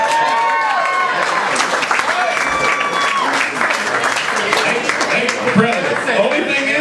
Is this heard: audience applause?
yes